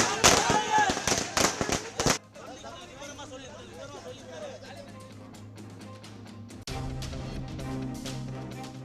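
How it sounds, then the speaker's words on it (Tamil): Fans and Tamilaga Vettri Kazhagam party members celebrating outdoors set off a rapid string of loud firecracker bursts, then a lively crowd murmurs and chatters in the background. "பட்டாசு வெடித்தும்"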